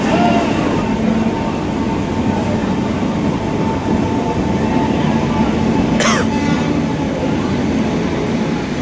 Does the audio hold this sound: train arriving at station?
yes